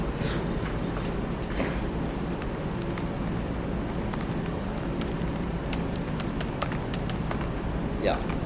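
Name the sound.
typing code on a computer keyboard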